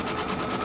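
An embroidery machine stippling a quilt runs in a steady, continuous whir with a dense needle buzz that holds at one level throughout, close and alone with no voices.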